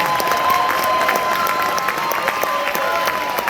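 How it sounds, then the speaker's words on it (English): A crowd at a Dallas arts and letters expo gives a round of applause, a thick wash of many clapping hands heard near and loud without pause, with faint voices mixed underneath. "Give us a Fort Worth round of applause."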